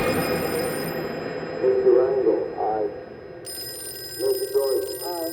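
A telephone rings on the floor in two separate bursts of trilling bell tones, loud and close, with background noise in between.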